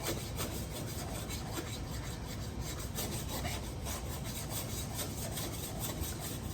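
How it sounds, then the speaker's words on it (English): Blade scoring a cut into a block of ice by hand, a faint, continuous rasping scrape with a rhythmic back-and-forth texture throughout and no talking. "You get a nice, good cut into this ice."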